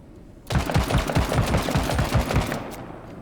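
Rapid automatic gunfire in the video game Menace, a sudden loud burst of evenly spaced shots that runs for about two seconds and then stops, with nothing else heard over it.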